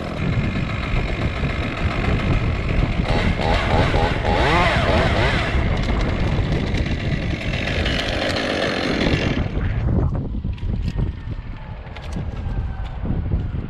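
A power drill runs continuously during rigging work outdoors, a loud buzzing whine that shifts in pitch midway and fades somewhat toward the end, with background engine-like rumble and no talk.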